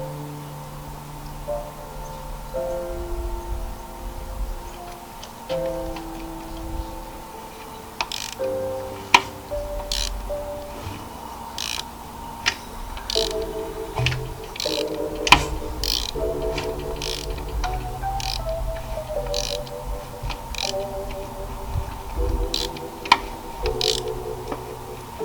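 A new engine for a drift Mustang is turned over slowly by hand, giving a close, steady series of ratcheting clicks and mechanical clunks that repeat through the whole stretch with no talking.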